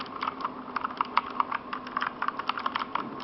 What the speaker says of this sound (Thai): ดีมากสำหรับเสียงปุ่มกดเนี่ย เป็น RGB และบูสวิตชอบมากเลย